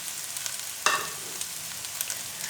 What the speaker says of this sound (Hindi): और चिकन को करेंगे फ्राई